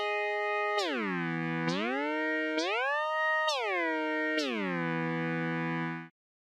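A digital synthesizer tone passed through a state variable filter, a sustained harmonic-rich note whose timbre sweeps and glides through several bright filter shifts before stopping abruptly, loud and alone.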